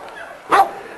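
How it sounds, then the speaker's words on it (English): Dog barking at feeding time, a single short, sharp bark heard close, with a faint whine or yip just before it and no other sounds around. "This dog right here is Pistol's mother"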